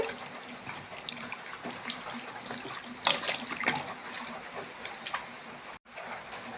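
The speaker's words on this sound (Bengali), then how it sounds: "আমি আম ধুয়ে নিচ্ছি ভালো করে আমগুলিকে ধুয়ে" Mangoes being washed under running tap water, a continuous splashing flow with bursts of louder sloshing and handling, close and without speech.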